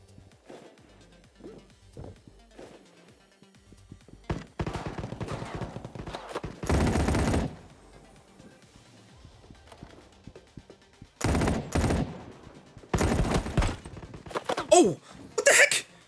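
Gunfire in the mobile shooter Battle Prime, several loud bursts of automatic fire with a few short shots in between, set against a quieter background of game noise.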